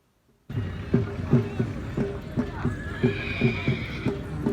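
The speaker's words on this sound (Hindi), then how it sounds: "ये नेक्स्ट घोड़े आने लगे हैं।" Horses trot past at a tent pegging cavalry event in Pakistan, a brisk, steady clip-clop of hooves with snorting and a whinny, loud and near, with crowd noise and some speech underneath.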